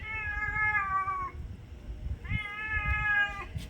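A cat meows twice, two drawn-out, clear calls close by, separated by a short pause, with a faint background rumble.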